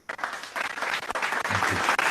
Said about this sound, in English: A huge round of applause for Major General Vikram Dev Dogra.